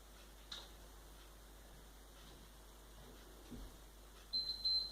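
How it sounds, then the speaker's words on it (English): A short electronic beep from an exercise interval timer sounds near the end, repeating in a quick few pulses over a quiet background with faint ticks. "Here goes the beep."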